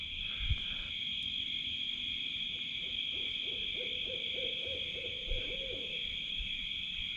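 Several owls hoot softly on a warm night, one closer and others farther off, their low calls rising over a steady high drone of crickets and insects.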